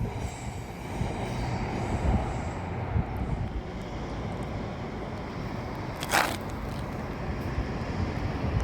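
A Class 801 train runs through Manors Station on its way to Edinburgh, giving a steady rumble from the rails with a brief sharp squeal or clank partway through, heard from close by the platform.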